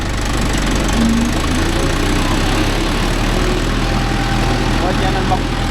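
A Mahindra Yuvo Tech Plus 585 4WD tractor engine runs with a loud, steady low rumble and knocking throb, heard close and continuous.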